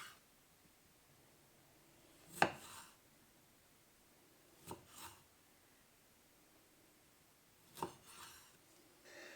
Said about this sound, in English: I'm going to cut them in half and then cut them in half again so they're in quarters